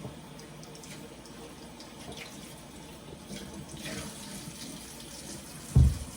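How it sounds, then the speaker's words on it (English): Tap water runs steadily into a sink while a gutted pumpkin is rinsed out, a soft, continuous splashing hiss at low level, ending with a brief louder knock near the close. "after you gut your pumpkin, I'm just going to rinse this out a little bit."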